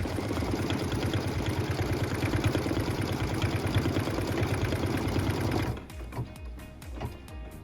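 A computerized embroidery machine stitches the final binding on a pieced wall hanging quilt, a loud steady rapid needle hum that runs continuously, then stops near the end, leaving quieter mechanical clicks and knocks.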